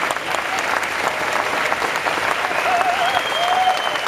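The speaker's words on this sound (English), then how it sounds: "Is that clapping loud enough?" An audience at a bodybuilding expo claps steadily for about four seconds, a dense, even wash of applause with a faint tonal whistle near the end.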